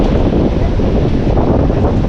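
Strong wind at the beach by a cottage, a loud, continuous roaring rumble of gusts battering the microphone, with no break and no talking.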